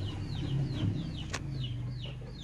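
Backyard turkey hens that have started laying, on a rural farm, give a run of repeated short, falling clucks and peeps at moderate volume over a low steady background hum.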